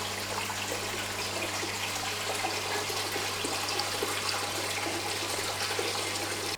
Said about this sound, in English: I'll drain the rest out into a bucket with a short